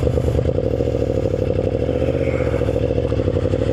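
Yamaha Vmax 1700 motorcycle, rated at 200 horsepower, cold starts into a loud, steady, deep rumbling idle close by, holding an even low throb throughout with no voices.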